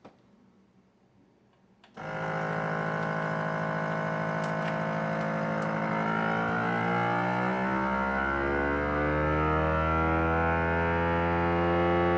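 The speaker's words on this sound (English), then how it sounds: "So it's done vacuuming, now it goes into the red light for the sealing process." A FoodSaver vacuum sealer by Newell pulls air from a bag of zucchini. After a short quiet lead-in, its pump starts abruptly and runs as a steady loud motor drone whose pitch slowly drops as the bag tightens.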